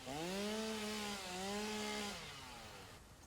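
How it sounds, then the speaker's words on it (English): A small chainsaw in the Satisfactory video game revs in a droning, wavering whine that rises and dips for about three seconds, then fades out, faint in the mix. "Use our little chainsaw here."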